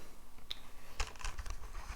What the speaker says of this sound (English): the keyboard is very nice